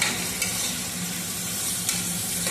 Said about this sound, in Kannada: ಒಂದು ಆಲೂಗಡ್ಡೆ ತಗೊಂಡಿದ್ದೀನಿ, ಅದನ್ನು ಕೂಡ ಹಾಕ್ತಾ ಇದ್ದೀನಿ ನೋಡಿ. ಇದು ಫ್ರೈ ಆಗ್ತಿದೆ